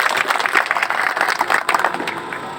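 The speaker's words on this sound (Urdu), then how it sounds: "نور خان نیازی صاحب تالیوں کے گونج میں." An audience at a transporters' gathering applauds a speaker, a loud, close wash of many hands clapping steadily throughout, with no break.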